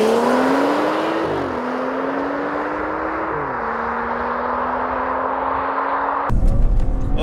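A 2014 BMW 435i xDrive engine revs hard and climbs through gears, pitch rising then dropping at each shift, a loud continuous roar ending with a harsh burst.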